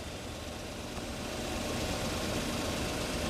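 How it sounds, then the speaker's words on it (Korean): A Genesis DH G380 AWD sedan's V6 engine idles steadily, producing a quiet, even low hum with faint mechanical vibration and no voices. "자, 엔진 진동 소리 한 번 더 들어보시고요"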